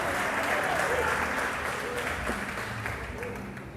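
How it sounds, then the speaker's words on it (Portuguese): Church congregation applauding during a worship service, loud sustained clapping that fills the whole stretch and eases slightly toward the end, with voices mixed in underneath. "Aplauda a Ele que te deu a vitória."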